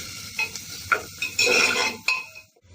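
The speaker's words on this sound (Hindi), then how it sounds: "और प्याज के सॉफ्ट होने तक इसे कुक कर ले रही हूँ।" Finely chopped onion stirred and cooked in a pressure cooker for macaroni, with a metal spoon scraping and clinking against the pot in several short strokes over a light sizzle, close up, no talking.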